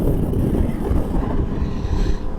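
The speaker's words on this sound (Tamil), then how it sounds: "ஜில்லுன்னு காற்று அடிக்குது" A steady, low roar of wind buffets the microphone without pause during a road trip from Chennai to Hosur, rumbling and gusting throughout, with no voices.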